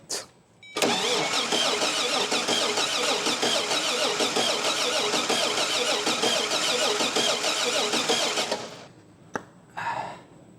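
A Toyota FJ40 engine cranks on a start attempt, a loud, steady churning run of about eight seconds that stops abruptly. A few short clicks and knocks follow in the quiet.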